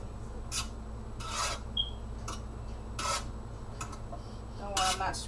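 A utensil stirs and pushes yakisoba noodles around a pan in a Nuwave infrared oven, giving repeated short scraping rasps at an uneven rhythm, close and fairly quiet, with no talking.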